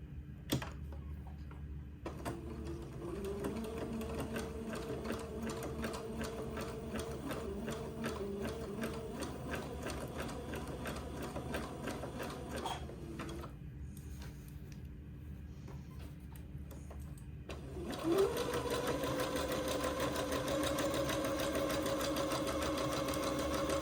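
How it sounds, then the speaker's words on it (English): A domestic sewing machine runs a zigzag stitch along the raw fabric edge of a skirt, its steady mechanical whirring continuing at close range for long stretches. A short pause comes midway and the motor pitch rises in the final seconds. "I'm going to set my machine to a zigzag"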